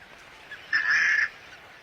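An anhinga, or snakebird, gives a single loud, harsh honking call that lasts about half a second, close by, with no talk over it.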